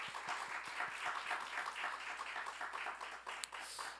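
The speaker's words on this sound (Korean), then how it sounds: "우리 박수로 환영하도록 하겠습니다" Steady applause from a church congregation at a Wednesday worship service, welcoming missionaries Andrew Kang Kwang-su and his wife Kang Hee-jeong, a dense continuous patter of many hands lasting the whole stretch.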